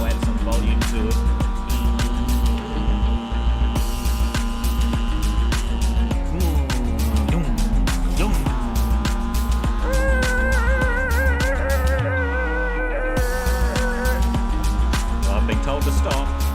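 Loud, continuous race car engine drone from the iRacing simulator, dense and steady with rising and falling pitch as the car shifts and accelerates, with someone talking over it.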